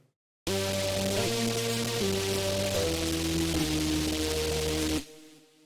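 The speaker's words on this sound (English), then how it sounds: "Then we have Fearless Polly." Fearless Polly, a Serum lead patch from the Doomsday pack, plays a thick, gritty chordal line that moves through several held steps, loud and unaccompanied, then stops abruptly with a brief tail.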